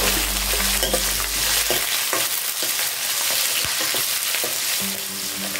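Onions, green chillies and garlic sauté in hot oil for Chettinad okra mandi, a steady close sizzle with stirring scrapes throughout and no talk.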